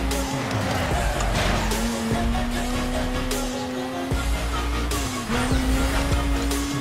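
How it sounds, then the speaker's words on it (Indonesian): A Mazda RX-8 in the racing game Need for Speed: Most Wanted holds a steady, loud engine drone, with short tire squeals and skids breaking through it across the stretch. "Mobil apa tuh belakang guys?"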